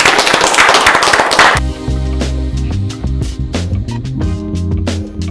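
An audience at a French talk-show event bursts into dense, loud applause for about a second and a half, then it gives way to a music sting with a few scattered claps.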